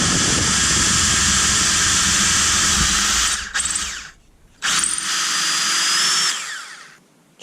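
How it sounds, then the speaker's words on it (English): A DeWalt DCD776 18V cordless drill bores a 7mm hole straight down into a piece of wood, its loud whining motor running steadily for about three seconds, cutting off briefly, then spinning up again before winding down. "it's a 7mm drill straight down into a bit of wood"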